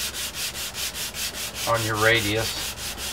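Rhythmic back-and-forth hand sanding strokes on a short wooden brace, close and steady, with a short spoken phrase partway through.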